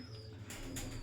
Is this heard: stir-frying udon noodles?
no